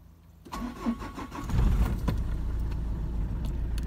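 A Citroën Evasion 2.0 HDi diesel engine cranks on the starter for about a second, catches, then settles into a steady, loud, close-up idle rumble.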